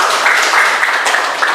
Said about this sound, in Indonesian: Boleh tepuk tangan yang menyimpulkan tadi